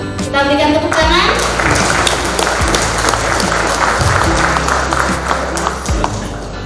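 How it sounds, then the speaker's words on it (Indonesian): Audience applause at a talk show event as moderators are invited onto the stage, loud, dense clapping that swells after a voice and continues for several seconds, with low thumps underneath. "Kita berikan tepuk tangan."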